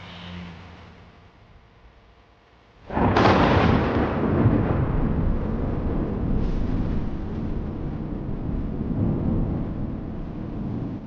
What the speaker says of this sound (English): As the storms return, bringing rain to green the parched earth